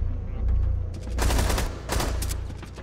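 Rapid automatic gunfire rattles out in loud, close bursts during a Rainbow Six Siege match on the Consulate map, with a short gap between two volleys.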